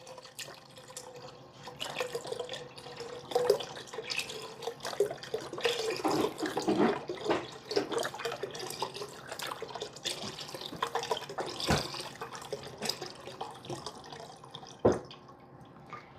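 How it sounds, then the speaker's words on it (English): About 2 cups of water poured into a soup pot in a home kitchen give a faint, steady splash and trickle with scattered drips and light clinks throughout, and no voices. "And I'm going to add in about 2 cups of water."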